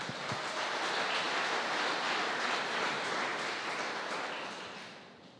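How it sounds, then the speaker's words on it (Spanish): A church congregation applauds during a Spanish-language sermon, a dense, steady wash of clapping that holds loud for several seconds and then fades toward the end. "Dale un aplauso al Señor"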